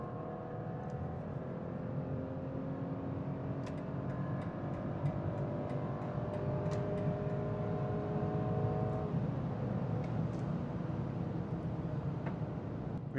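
Steady engine and road hum from inside a 2025 BMW 320i M Sport accelerating in sport plus mode with a sport transmission setting, the tone rising gently and staying fairly quiet and even.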